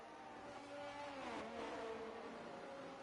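A race car engine in an F1 video game revs and whines as one car overtakes another, a faint, steady drone with rising and falling pitch, no voices.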